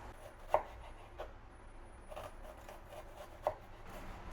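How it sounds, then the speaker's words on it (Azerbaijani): A red onion is chopped on a cutting board, with a few distinct close knife taps spaced irregularly amid quiet slicing noise. "Bir dənə qırmızı soğanı doğrayırıq."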